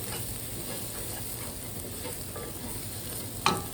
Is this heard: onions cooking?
yes